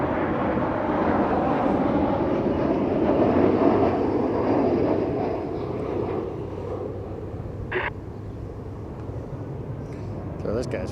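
An airliner at Cleveland Hopkins International Airport gives off a steady, broad jet roar that swells and eases over several seconds, with a voice faintly audible underneath.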